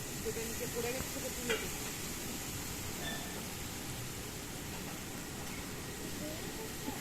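Ridge gourds tipped into a wok of nearly fried potatoes give a soft, steady sizzle that runs evenly throughout, quiet and close.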